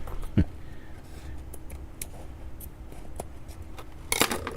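Scissors snip the stitching of a canvas coin mint bag holding 1963-P coins: a few faint, sparse clicks and snips against low background noise, then a brighter metallic rustle near the end.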